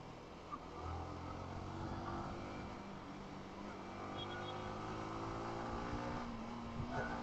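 Road traffic rumbles steadily in the background, a continuous wash of passing cars and motorbikes heard from the street, moderately faint with no talk.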